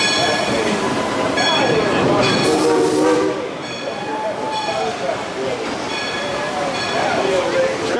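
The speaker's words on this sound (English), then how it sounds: "it's a really big train." The Dollywood Express theme park train rumbles past fairly fast with clattering wheels and a horn sounding in sustained tones, loud and close, with voices faintly underneath.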